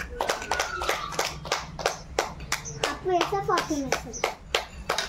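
People clap during a spoon game, with bursts of quick hand claps in uneven runs, close and fairly loud, while children talk and call out between them.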